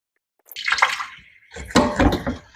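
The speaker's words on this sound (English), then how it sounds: "I'll put water in the bottom of this tray to allow this potting soil to start to uptake the water from the bottom up" Water poured into the bottom of a plastic seed-starting tray holding potting soil, heard as two close splashing pours, the second longer and fuller, with no talk over it.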